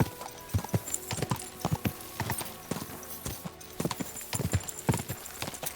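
Horse hooves in Kingdom Come: Deliverance II clip-clop in a steady, close trotting rhythm, crisp repeated strikes over a quiet outdoor background, with no talk.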